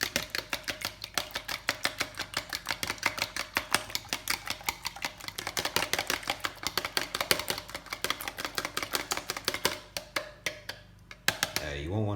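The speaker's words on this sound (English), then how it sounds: "and I'll be whisking them" Two egg yolks whisked briskly in a bowl for a meatloaf mix: a close, fast, steady run of light clicking strokes that keeps an even rhythm, then breaks up briefly near the end.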